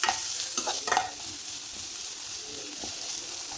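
Green chilli and tomato are sautéed in a hot pan, a close, steady sizzle with a few sharp stirring scrapes near the start, no voices present.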